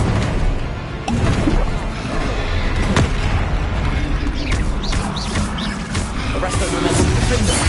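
In the Hogwarts Legacy video game, the Confringo fire-blast spell bursts amid loud, dense combat noise, with a sharp crack and booming blasts layered over constant mechanical clatter and speech.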